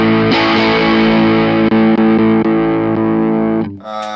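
Brian May Red Special electric guitar on its middle pickup, played heavily distorted through an effects unit: a sustained chord rings loud with a few picked accents, then cuts off and a brief higher phrase starts near the end.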